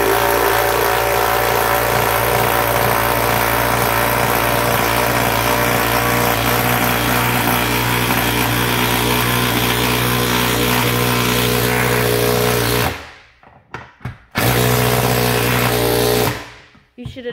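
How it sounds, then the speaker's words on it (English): A power tool drives a 6-inch lag bolt during a shop and house build, a loud, steady whirring drone that stops abruptly, starts again briefly, then cuts out. "6-inch lag bolt. That is loud. It's really loud."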